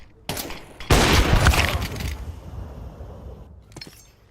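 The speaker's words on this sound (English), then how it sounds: "Flashing. Flashbang. smoke." Flashbang grenade going off in a shooter video game: a sharp burst followed by a loud crackling blast that slowly fades over several seconds, with a brief clatter near the end.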